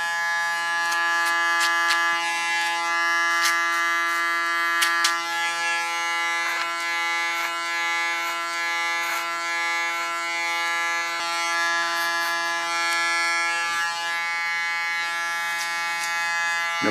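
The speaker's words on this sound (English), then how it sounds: "I think this is the best wireless clipper there is." A Panasonic wireless hair clipper hums steadily and loudly near the ear throughout, a constant buzzing drone with brief clicks and small variations as it cuts hair, no talk.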